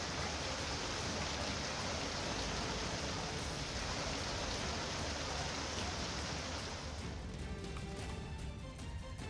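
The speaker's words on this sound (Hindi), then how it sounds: "छत्तीसगढ़ में भारी बारिश ने मुश्किलें बढ़ा दी हैं।" Heavy monsoon rain pouring in Chhattisgarh, a dense, constant hiss of downpour on surfaces, loud and unbroken throughout, with no voices.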